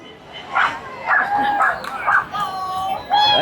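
A dog at a street protest lets out a run of short, sharp barks and yips close by, spaced in quick bursts with brief pauses between them.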